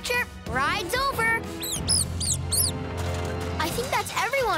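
Cartoon mice squeak in rapid high-pitched chirping bursts, repeated in a quick series over music and a low background hum, with voices at the start and end.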